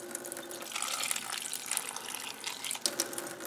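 Water is poured onto guava pieces and ice in a blender jar, a close, steady splashing gush lasting a few seconds with no talking.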